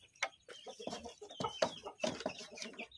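Contest chickens clucking close by in a series of short, irregular bursts, with sharp louder calls over a steady murmur of softer clucks.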